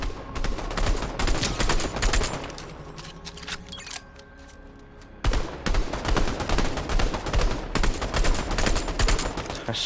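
Rapid bursts of automatic gunfire crackle through a Fortnite match, dense and loud, with a brief lull of quieter shots midway before the heavy firing resumes; no talking.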